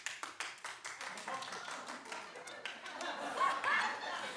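A talk-show audience answers a host's request to clap: a handful of scattered, uneven claps at moderate distance, mixed with light chuckling and murmured voices, thinning rather than building into full applause.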